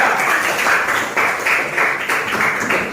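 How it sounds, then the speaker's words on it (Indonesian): A classroom group of students claps for the second group, a steady burst of hand claps with a quickening rhythm that holds at a fairly loud, even level for a few seconds. "berikan tepuk meriah untuk kelompok 2"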